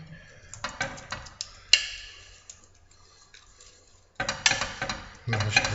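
A spoon mashing a butter and cheese mixture into polenta for kachamak, giving irregular close clinks and taps against the pot, broken by a quiet stretch before a faster, louder run of scraping knocks.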